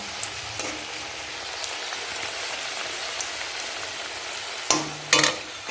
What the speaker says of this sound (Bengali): পরে এবারে চামড়াগুলো ভাজবো